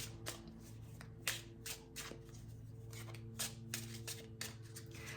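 Tarot cards are shuffled by hand in a quiet room, giving a series of soft riffling bursts and light card slaps at an uneven rhythm, close up and faint.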